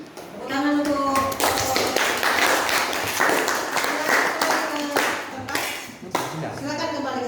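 Classroom audience clapping, a burst of hands that builds quickly and holds dense and close for several seconds, with children's voices mixed in at the start and end.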